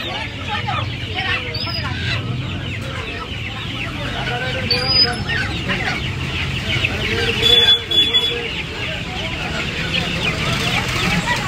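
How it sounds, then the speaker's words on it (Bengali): Desi roosters and hens at the crowded Uluberia poultry market cluck and cackle continuously, a busy mass of bird calls with voices and stall noise mixed underneath. "এই একটা মুরগি দেখতে পাচ্ছেন, মোরগ আছে, এটা এটা দেশি মোরগ আছে।"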